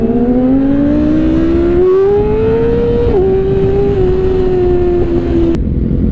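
A Yamaha R6 motorcycle engine accelerates hard, its loud high-revving whine climbing steadily, dipping briefly at a gear change and pulling again, heard close and continuous with wind rush beneath.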